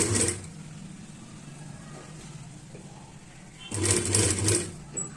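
Short bursts of a sewing machine stitching a katori blouse, one at the very start and a louder run near the end, with a quiet pause between.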